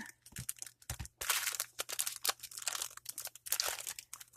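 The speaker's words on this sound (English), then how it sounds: "I'll also need these knee-highs that I bought at Dollar Tree. So I'm just going to cut that open." A plastic package of Dollar Tree knee-highs is handled and cut open up close, giving quick crinkling and crackling bursts with short snips and rustles in an irregular rhythm, no talking.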